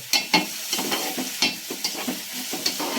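Chopped onion sizzling in hot oil in a pan while being stirred, a continuous frying hiss broken by several sharp scraping strokes of the spoon at an uneven rhythm, close up and without talk.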